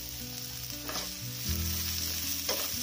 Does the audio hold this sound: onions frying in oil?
yes